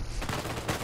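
A shotgun fires in the video game Uncharted as a short, sharp burst of gunfire in under a second.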